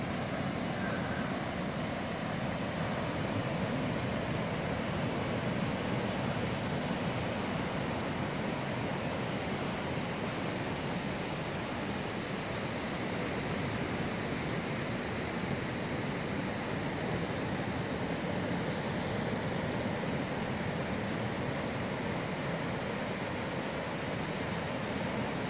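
Ocean surf rolling onto a beach in a steady, unbroken wash of breaking waves, constant and fairly loud with wind, no talking.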